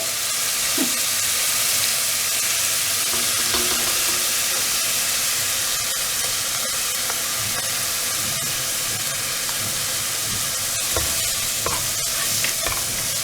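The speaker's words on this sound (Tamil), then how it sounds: "இஞ்சி பூண்டு பேஸ்ட்டு போட்டாச்சு. அது கொஞ்சம் வதங்கட்டும்." Ginger garlic paste fries in a pan for crab masala, a continuous close sizzle and hiss with occasional stirring scrapes and clinks throughout.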